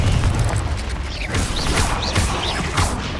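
Confringo blasting spell cast repeatedly in Hogwarts Legacy, a run of several fiery bursts and booms in quick rhythm, each with a whooshing crackle, loud and close, with no talking.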